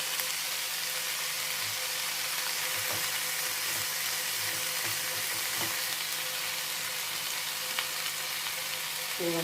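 Chopped snake gourd fries steadily in a hot pan with tamarind added, a continuous close sizzle with occasional faint stirring clicks and no talk.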